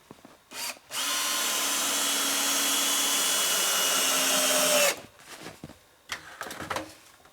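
A power drill drives a 2.5-inch screw into a board while building a sugar bush shelter, one steady whine of about four seconds that stops abruptly, followed by a few clunks and handling knocks.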